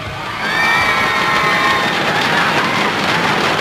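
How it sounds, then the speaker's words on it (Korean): A large outdoor crowd at Yeouido Plaza cheers and applauds two players at a StarCraft finals event, a loud sustained roar of clapping, shouts and whoops that swells after a brief start and holds steady. "다시 한 번 두 선수에게 뜨거운 박수 부탁드립니다"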